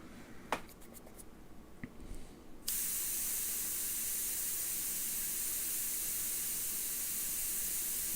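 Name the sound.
paint spraying with uneven spray pattern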